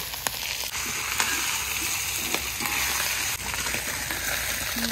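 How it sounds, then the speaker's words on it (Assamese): Meat fries in a pan with a constant close sizzle and hiss, punctuated by a few sharp utensil taps and stirring clicks, with no voices over it. "এইফালে পুৰা ফ্ৰাই হৈ গ'ল আৰু এতিয়া দিব লাগে এইফালে কোমৰা আৰু আলু"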